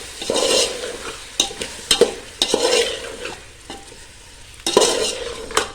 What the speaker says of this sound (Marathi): ह्याला आपण आता परतत राहूया